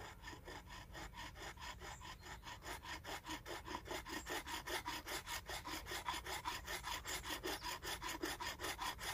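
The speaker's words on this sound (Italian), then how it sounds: "questo mi consentirà di fare un taglio molto preciso e molto sottile quindi andiamo con questo e piano piano facciamo il taglio proprio in modo preciso" A fine hand saw cuts slowly through wood for a bushcraft incense holder, with steady, evenly spaced rasping strokes that grow slightly louder and continue alone, close up.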